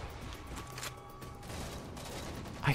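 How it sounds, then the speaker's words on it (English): Distant gunfire in Halo 4 multiplayer, a scattered crackle of rapid shots and mechanical clatter under a constant low battle rumble, faint and muffled, with a louder burst near the end. "I hear guns all around me, but nothing's happening"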